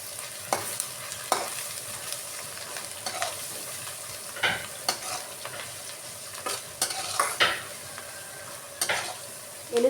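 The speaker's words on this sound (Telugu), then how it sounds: "చక్కగా వేయించుకోవాలి." Ground garlic paste fries in a pan as a utensil stirs and scrapes it repeatedly, giving a steady low sizzle broken by sharp scraping strokes, close by with no talking.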